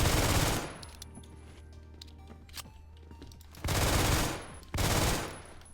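Burst-fire gun in the Roblox shooter Phantom Forces: three loud, dense bursts of rapid shots, one at the start and two close together near the end, separated by quieter game background.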